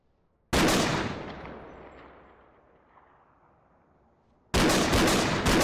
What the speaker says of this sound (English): Guns in this game are very loud, and I mean very loud.